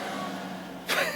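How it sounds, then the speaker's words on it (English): A loud car passes close by on a road outside a workshop, its rushing noise swelling suddenly near the end over a steady background hum. "A noisy-ass car."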